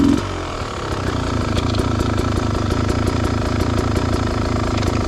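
A dirtbike engine runs steadily at a rough, mid-pitched idle-to-cruise on a training ride, with a brief throttle change at the start, loud and close without any talk.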